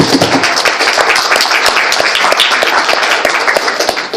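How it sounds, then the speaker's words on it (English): An audience at a Tea Party gathering claps for veterans, a loud, close, continuous roll of many hands that holds steady throughout. "And we can give them a round of applause as well."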